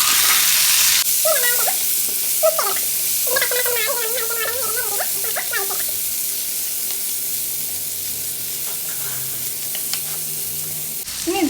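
Tomato and onion dropped into a pan of frying urad dal, a loud steady sizzle with squeaky scraping stir strokes early on, then a continuous hiss that settles and fades slightly.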